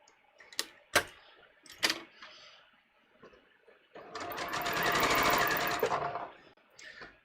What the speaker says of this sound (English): now I'm stitching right up at the top of the fold